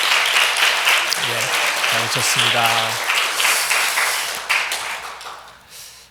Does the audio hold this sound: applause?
yes